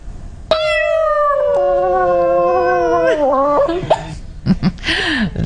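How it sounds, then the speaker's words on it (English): Hermes the dog lets out one long, loud, close howl, holding a wavering tone for about three seconds before it bends and breaks off, followed by yips and laughter-like sounds. "That is Hermes howling."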